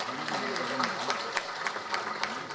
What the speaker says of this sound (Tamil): அவருக்கு நீங்கள் பெரிய கைத்தட்டல் கொடுத்தாவும்